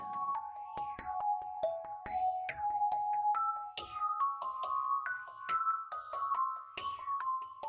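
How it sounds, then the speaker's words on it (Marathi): A phone ringtone plays a bright, repeating electronic melody of short chiming notes, continuous and fairly close, with faint background murmur. "सोहम फोन उचलत नाहीये."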